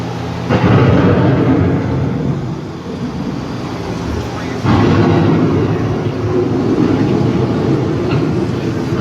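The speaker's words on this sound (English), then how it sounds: "The approaching storm may seem violent and destructive to us" Deep rumbling thunder from an approaching storm inside the Epcot dark ride Living with the Land, a loud sustained low roar swelling in two long waves with rolling crackle throughout and no voices.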